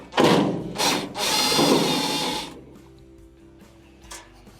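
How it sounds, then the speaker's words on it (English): Power driver backing screws out of the heater assembly of a GE dryer, a loud whirring burst followed by a longer steady high-pitched spin, then a quiet pause with a faint click. "Remove these, and you can use either a Phillips bit or a number 2 square bit."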